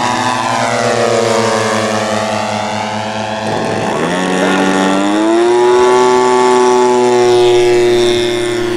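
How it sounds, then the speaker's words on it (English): A replica model Hawker Hurricane warbird aircraft flies overhead at a model air display, its propeller engine droning steadily and loud throughout, pitch sliding down and then rising again as it passes and climbs away. "The Hurricane on its way up to join the Spitfires, the Thunderbolts, the Messerschmitts and the Focke-Wulfs."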